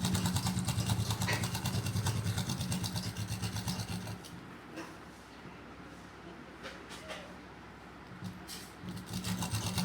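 A sewing machine runs a steady seam on a Semi Patiala salwar with a close, continuous whirring hum for about four seconds, then drops to quiet handling sounds before starting up again briefly.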